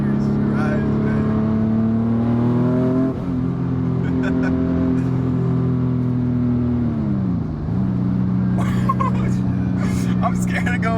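A 500 hp big-turbo Infiniti G37 coupe accelerates hard from inside the cabin, its loud engine note rising through the gears with a brief dip at each shift, while excited passengers talk and shout over it.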